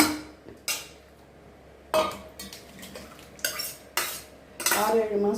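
A metal ladle stirs ridge gourd dal kootu in a pan, giving about five separate scraping, clattering strokes with quiet gaps between them, close and fairly loud.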